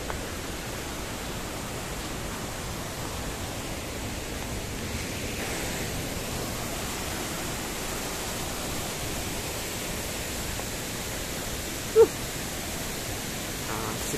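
A second waterfall roars in a steady, even wash of rushing water, constant throughout with no voices.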